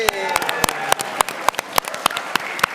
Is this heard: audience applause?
yes